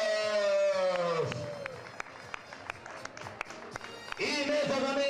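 Spectators at a Dueñas race clap for an arriving runner, a brief patter of scattered claps in the open air between stretches of an announcer's amplified voice.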